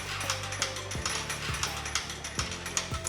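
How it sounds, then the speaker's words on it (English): Beer hose winding out from a Duotank CDU delivery unit under remote control, a steady mechanical whir with repeated ratchet-like clicks and thumps at roughly half-second intervals. "Use the remote control to roll out the beer hose from the CDU."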